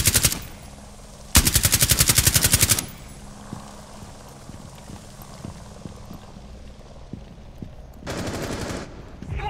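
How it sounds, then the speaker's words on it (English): SMG-11 submachine gun fire in Rainbow Six Siege on the Bank map: two loud, rapid automatic bursts, one near the start and a longer one after it, then a third burst near the end, with quieter game sounds between. "SMG-11 has so much recoil on it now"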